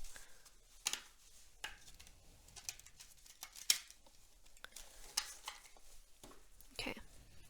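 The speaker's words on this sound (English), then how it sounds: "Okay, one more shuffle." Soft, irregular papery riffles and flicks of tarot cards being shuffled, close up and quiet, with brief sharp snaps scattered throughout.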